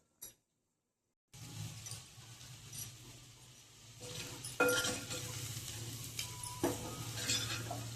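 Egg stirred around a frying pan so it doesn't stick, with a continuous sizzle under repeated scraping and clinking of the utensil against the pan, growing busier after a short silent gap at the start; no talking.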